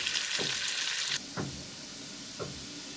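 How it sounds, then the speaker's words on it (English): Potatoes and onions sautéing in a pan for aloo bhujia, a steady close sizzle with a few soft stirring scrapes, the hiss dropping partway through to a quieter fry. "Please be gentle when you are sauteing it, as the potatoes might break."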